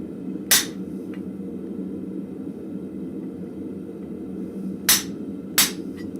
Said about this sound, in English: So now I can do my nice little chisel work